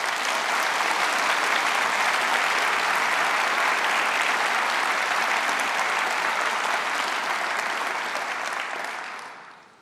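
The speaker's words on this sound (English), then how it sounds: "They all do a great job, and they deserve a big round of applause." Sustained applause fills a large conference hall at the 2018 Conservative Party Conference, dense and steady clapping from a big audience that holds for about eight seconds before fading out.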